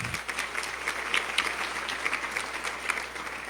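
Banquet audience giving a round of applause at a Lifeline-connect fundraising dinner, a sustained roomful of clapping with scattered louder individual claps, steady throughout with no voices over it.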